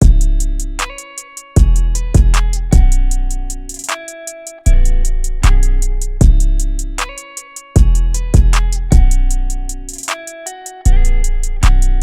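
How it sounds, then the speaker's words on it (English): Punchy kick drum hits land on the beat within a looping guitar-based trap groove made in FL Studio, with deep bass and ticking hi-hats around them. "next up I added this kick,"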